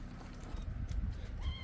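A kitten under a car gives a couple of thin, high meows over a low rumble of background noise, close by and fairly faint.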